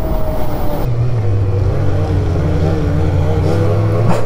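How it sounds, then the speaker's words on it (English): A strong headwind roars steadily while riding past snow drifts, its broad rushing noise blending with a constant engine drone throughout. "The wind is pretty gnarly, though, I will say that."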